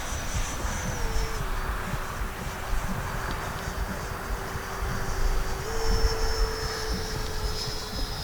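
A Freewing F-16 70mm electric ducted-fan RC jet in arctic camouflage flies overhead, producing a steady distant whooshing roar with a sustained whine whose pitch shifts slightly as throttle changes, without talk.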